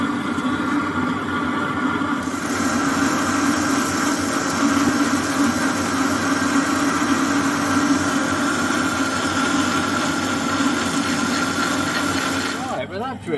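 A 22mm drill bores steadily through metal on a machine with cutting fluid flowing, a constant whirring grind with a low motor hum that runs unbroken for the whole clip and ends with a brief clatter.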